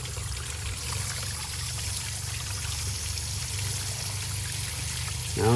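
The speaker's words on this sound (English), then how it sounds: "You see how that's not really flowing at all? That's just kind of a slight trickle." Water trickles slightly through a blocked coolant hose on a 2014 VW Passat TDI under full hose pressure, a faint, continuous soft dribbling that ends with a louder bump.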